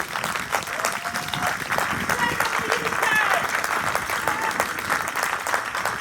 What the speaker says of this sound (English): Yes, they deserve your applause.